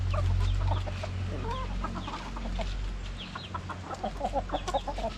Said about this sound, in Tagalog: nagpapakain si mami ng manok